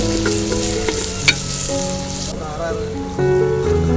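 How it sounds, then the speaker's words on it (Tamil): Onions sizzle steadily in hot sesame oil, a bright crackling hiss with an occasional stir or clink, under light background music. "4 டேபிள் ஸ்பூன் நீங்கள் நல்லெண்ணெய் விட்டுட்டு நம்ம நறுக்கி வச்ச வெங்காயத்தை போட்டு வணக்கணும்"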